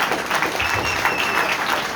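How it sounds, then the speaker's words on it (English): New York delegates at the 2024 Republican National Convention clap for themselves in a brief, close burst of crowd applause. "So give yourselves a round of applause for being here."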